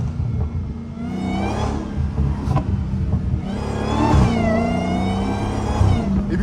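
A straight-piped Dodge Hellcat engine held near 4,000 RPM gets repeated throttle taps, giving loud, close rising revs with crackling exhaust pops between them.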